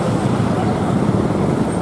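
Buses idle and move around the Bekasi bus terminal in Indonesia, among Prima Jasa coaches, giving a steady, loud, close rumble of engines and road noise with no clear speech.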